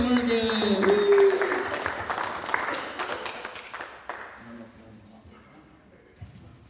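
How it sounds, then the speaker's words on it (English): Audience applause at a language summit gathering, a loud burst of clapping mixed with cheering and whoops that gradually dies down, with a voice speaking over it near the end. "Please put a big round of applause for Margret Cook."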